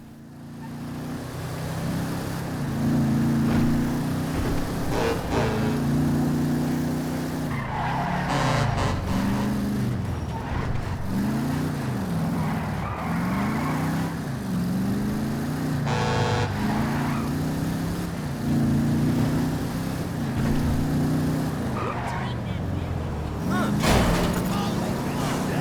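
A car driving at night in GTA V, its engine droning and shifting pitch as it revs up and down through gears, with a brief horn-like toot near the end, under someone talking over the gameplay.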